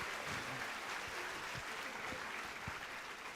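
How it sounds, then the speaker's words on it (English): A conference hall audience at a motivational session for CA students claps for a speaker, steady faint applause with no talking. "A huge round of applause for our speaker,"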